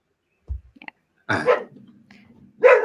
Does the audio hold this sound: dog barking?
yes